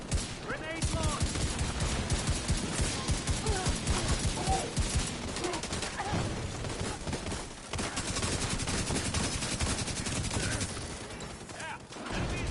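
The Division 2 video game firefight, with a grenade launch amid dense, continuous gunfire and rapid automatic bursts, loud and sustained throughout with only brief lulls.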